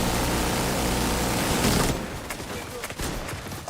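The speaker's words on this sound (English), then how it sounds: "Getting sniped right now." Sniper fire in The Division 2, heard as a sustained noisy barrage of shooting that gives way to scattered sharp shots and impacts in a chaotic firefight.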